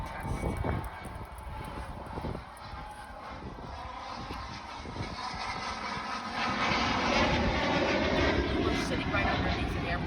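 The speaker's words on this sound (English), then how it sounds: "Planes are landing." Airplanes landing at a nearby airport produce a rising, droning engine roar that swells and grows louder toward the end, heard from inside a parked car with a voice talking over it.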